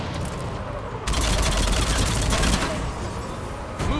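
Gunfire in a Mass Effect 3 video game battle, heavy rapid bursts of automatic fire crackling loudly for several seconds, then easing off before another burst.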